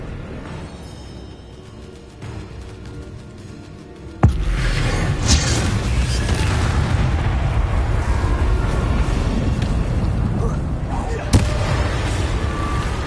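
Bombarda blasting spell in Hogwarts Legacy: a sudden loud explosive boom hits partway through, followed by a sustained roaring rumble of debris and combat noise, with a second sharp burst later, over quieter game music beforehand.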